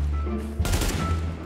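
Gunfire from the video game The Division, a loud burst of shots starting about halfway through and continuing with a second hit near the end, over steady game background hum.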